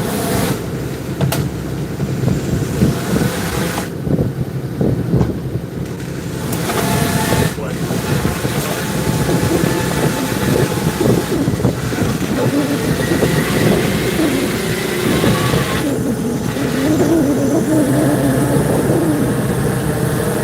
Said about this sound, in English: Noise you hear running is the hauler.